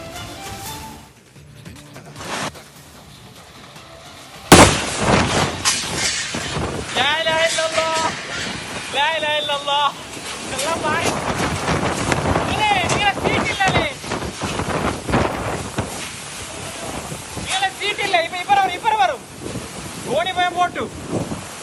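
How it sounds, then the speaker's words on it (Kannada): Strong wind from a heavy rainstorm in coastal Karnataka roars and buffets the microphone in gusts, with roof sheets rattling, clattering and tearing loose, and occasional voices shouting in the background. "ಸಿಕ್ಕಾಪಟ್ಟೆ ಗಾಳಿಯ ಅಬ್ಬರಕ್ಕೆ ಯಾವ ರೀತಿ ಶೀಟ್ಗಳು ಕಿತ್ತು ಹಾರಿ ಹೋಗ್ತಾ ಇದೆ ಅಂತ"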